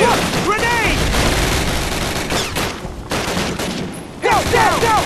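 Call of Duty firefight in a burning village: dense, loud automatic gunfire rattles almost continuously with overlapping bursts, briefly thinning before resuming, while shouted voices cut through the battle.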